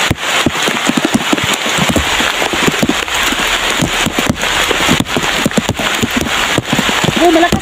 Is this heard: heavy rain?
yes